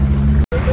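A car drives along the road toward Amatitán before a turbo is fitted, giving a loud close engine drone that cuts out for an instant and resumes with a rising whine.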